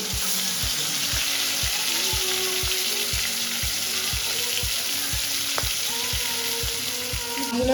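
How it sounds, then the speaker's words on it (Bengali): Pieces of aar fish frying in hot oil for a Bengali fish kalia: a loud, steady sizzle runs throughout, with evenly spaced low thumps underneath and no talking. "মাছগুলো আমি ভেজে দিই"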